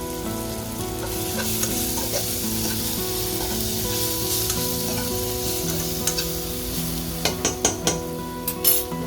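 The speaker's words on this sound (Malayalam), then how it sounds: "നമുക്കിതൊന്ന് വാട്ടിയെടുക്കാം" Sliced onions with added chilli powder sautéing in a pan for Kerala-style jackfruit upperi, a steady sizzle with stirring scrapes throughout and a few sharp utensil clinks near the end, no voices.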